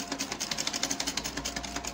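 Sewing machine stitching fabric for smocking, a half inch inside the edge, running in a steady fast rhythmic chatter of needle strokes, close and moderately loud with no talking.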